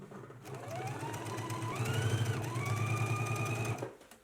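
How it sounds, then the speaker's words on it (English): A sewing machine runs a quarter-inch topstitch along a jacket sleeve seam, its motor rising into a steady close whirring hum of rapid needle strokes for several seconds before stopping. "we're going to do a 1/4 inch top stitch all the way along the sleeve seam"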